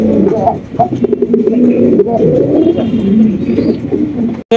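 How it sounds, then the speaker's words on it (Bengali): Pigeons coo in a dense, close murmur of overlapping low calls at a bird farm, with some speech mixed in. "দেখেন কত সুন্দর কবুতর"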